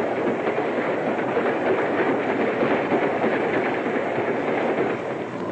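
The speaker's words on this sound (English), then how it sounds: "His train approaches a small village and dashes on through." Loud, continuous rumble of a Baltimore & Ohio Railroad passenger train speeding along the rails, with a rapid rhythmic clatter and roar, close and unbroken.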